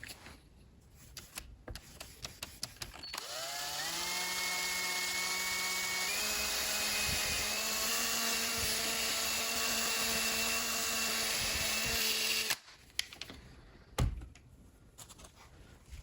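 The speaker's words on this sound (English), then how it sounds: "I'm just going to use this little felt pad in my drill to buff this out" A handheld drill fitted with a felt pad buffs a car headlight, whining at high speed for several seconds, its pitch rising then steadying, with a soft rubbing hum as it spins, loud and close.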